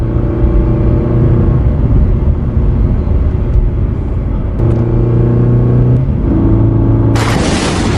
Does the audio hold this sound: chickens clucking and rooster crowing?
no